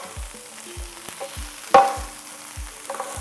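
Hash browns sizzle steadily in a pan while a spatula turns them, with soft repeated stirring scrapes and one sharper clatter of metal against the pan partway through.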